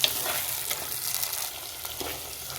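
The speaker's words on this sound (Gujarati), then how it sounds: "હવે દાણા થોડી વાર આપણે તેલમાં થવા દઈશું." Fresh lilva beans fry in hot oil in a pan for a Gujarati winter dish, giving a soft, even, fairly quiet sizzle with a few light stirring clicks and no voices.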